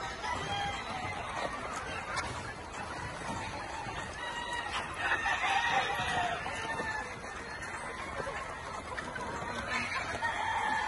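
A flock of chickens at a veterinary poultry sale cluck continuously, with a rooster crowing among them; a busy, moderately loud farmyard chorus with faint talk in the background.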